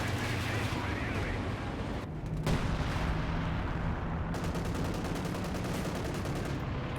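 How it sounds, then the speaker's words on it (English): A Werfer rocket artillery barrage in a Company of Heroes 2 match, a loud, dense roar of launches and blasts that fills the whole stretch, with a brief gap and then rapid repeated bursts, and a commentator talking over it. "this was probably the shortest Werfer barrage I've ever seen"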